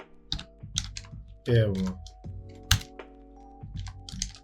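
Code is typed on a computer keyboard as quick, close clicking keystrokes in short clusters, heard under someone talking.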